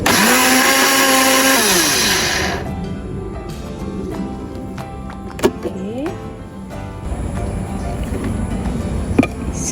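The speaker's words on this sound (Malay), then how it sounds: "Dan kisar halus daun pandan ni." An electric blender roars as it grinds pandan leaves with coconut milk, its motor whine sliding down as it slows and stops, then faint clinks and handling noises follow at close range.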